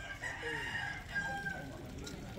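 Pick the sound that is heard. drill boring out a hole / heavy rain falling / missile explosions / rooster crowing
rooster crowing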